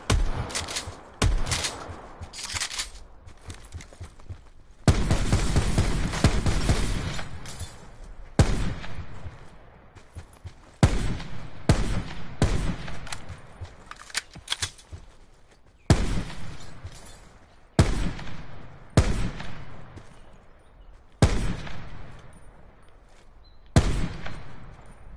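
SDM rifle firing in Call of Duty Blackout, a string of loud, sharp single shots and short bursts spread through the whole stretch, each crack with a brief tail, some shots closer together than others.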